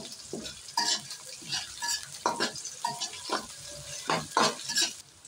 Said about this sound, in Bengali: পেঁয়াজটা এখন একটু বাদামি কালার করে ভেজে নিব।